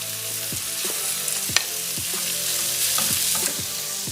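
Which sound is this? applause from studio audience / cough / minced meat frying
minced meat frying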